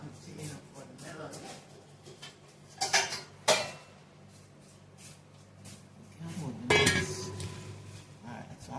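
Pieces of cooked melon going into a container, heard as a few close clinks and knocks of dishes and utensils spread across a quiet kitchen background.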